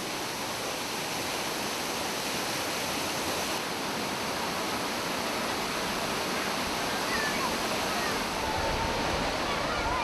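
Bantimurung waterfall roaring steadily and loud, a dense unbroken wash of falling water with no pauses, crowd voices faintly mixed beneath.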